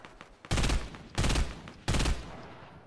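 Three loud bursts of automatic gunfire from shooting in the video game Fortnite, each roughly half a second long and separated by brief gaps, heard close with no talk.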